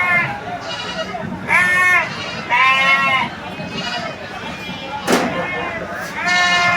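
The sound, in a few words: sheep and goats bleating at Chennai Red Hills goat market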